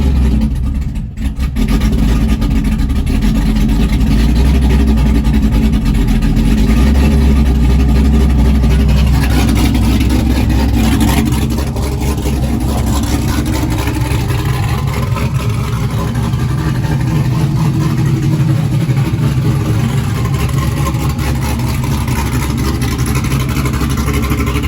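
A newly installed engine, with oil and fuel pressure up, starts after a brief crank and settles into a loud, steady low-pitched run close by. It keeps droning evenly for the rest of the stretch with no talking over it.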